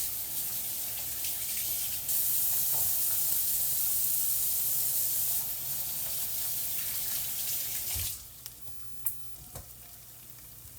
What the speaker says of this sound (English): right now I'm going to go over here and wash my hands